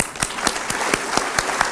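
Audience clapping at a charity gala, a sparse, uneven patter of individual claps spread through a room at moderate volume.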